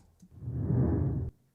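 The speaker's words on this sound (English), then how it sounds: "But this is just a particular whoosh I've been using for a long time" A single soft, low whoosh swells and sweeps past for just over a second, then cuts off cleanly.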